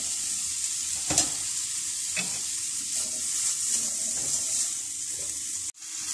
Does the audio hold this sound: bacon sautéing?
yes